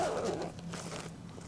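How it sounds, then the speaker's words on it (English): A small EDC get-home bag is zipped shut in one brief, quick zip pull close by, with soft handling rustle and no talking. "I'll zip it up."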